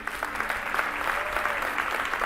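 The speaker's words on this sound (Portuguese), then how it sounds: "Você pode aplaudir ao Senhor?" A church congregation applauds in praise of the Lord, a steady, moderately quiet burst of many hands clapping that continues without a break through the short stretch.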